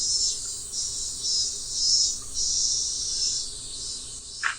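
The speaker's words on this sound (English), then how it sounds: "Are those cicadas?" Several kinds of cicadas drone in Japan as a steady, loud, high-pitched buzzing chorus that swells and pulses, with a brief sharp chirp near the end.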